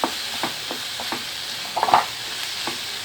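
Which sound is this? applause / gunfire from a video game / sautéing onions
sautéing onions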